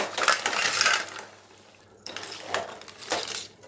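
Cooked crab goes into an onion-tomato masala in a pan, a few loud bursts of wet crunching, clattering and scraping against the pan, close and alone without talk.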